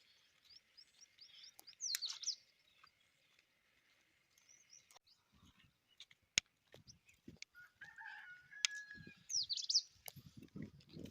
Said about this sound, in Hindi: मुर्गे की आवाज़।